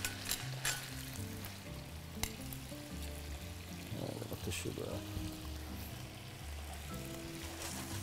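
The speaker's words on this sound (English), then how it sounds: "So you can hear the music of the lobster cooking." Lobster sizzles and fries in a hot pan, a steady crackling hiss with occasional stirring clatter, heard close and continuous while music plays underneath.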